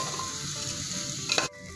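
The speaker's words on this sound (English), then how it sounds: "To this we will add our washed rice. Let us saute it for 1 to 2 minutes." Washed rice sautés in a hot pan, giving a soft, steady sizzle close up, with a brief stirring clatter near the end.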